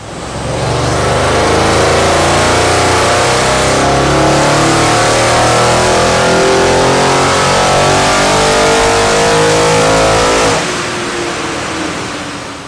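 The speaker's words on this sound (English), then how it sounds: "So we've just dyno tested the RS6." An Audi RS6 C7 with a twin-turbo V8 revs hard on a dyno, a loud sustained engine roar climbing in pitch that drops off abruptly near the end, leaving a quieter idle.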